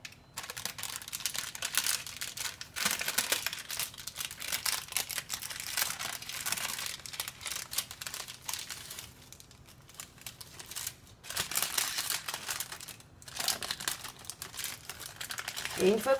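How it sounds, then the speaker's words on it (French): Crinkly, papery rustling and crackling as parchment paper is slowly peeled off a rolled sponge cake, close up, continuing steadily with soft scraping throughout. "une fois qu'on aura fini de décoller le papier sulfurisé"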